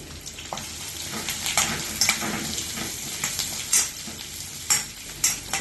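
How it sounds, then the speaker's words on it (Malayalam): Chopped onion, ginger, green chili and curry leaves sauté in a hot pan, a steady sizzle broken by sharp scraping and clinking stirs of a spatula at irregular intervals, close and clear. "ഒരു സവാള ചെറുതായി മുറിച്ചതും 1 കഷ്ണം ഇഞ്ചി ചെറുതായി മുറിച്ചതും 1 പച്ചമുളക് മുറിച്ചതും കുറച്ച് കറിവേപ്പിലയിട്ട് വഴറ്റാം"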